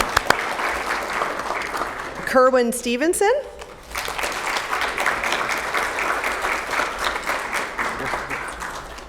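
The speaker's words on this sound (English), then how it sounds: "applause." A city council meeting audience applauds an honoree. Steady, fairly loud clapping fills the room, briefly interrupted by a voice calling out a name before the applause resumes.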